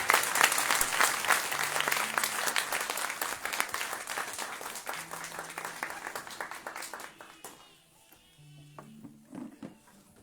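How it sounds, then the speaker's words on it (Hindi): A crowd at a Christian worship gathering applauds loudly and steadily for several seconds, then the clapping thins out and fades, with a few scattered claps and faint voices at the end. "आइए हम तालियां बजाएंगे"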